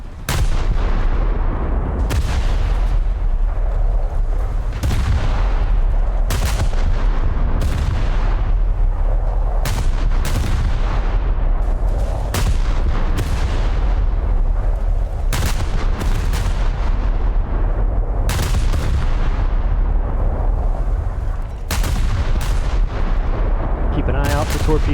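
Naval guns in a warship video game firing high-explosive shells at a battlecruiser, heavy booming shots repeating every couple of seconds over a constant loud rumble of battle.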